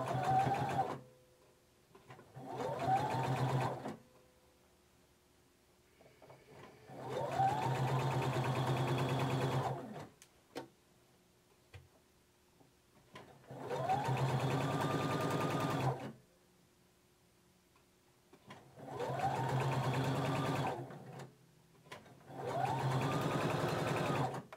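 A sewing machine stitches a neckband onto a top in six bursts of rapid mechanical whirring, each lasting a few seconds, with short quiet pauses between them.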